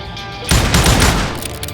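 Gunfire in the video game Call of Juarez Gunslinger breaks out as a loud, dense burst of rapid overlapping shots, close and lasting about a second after a short lead-in of quieter game ambience.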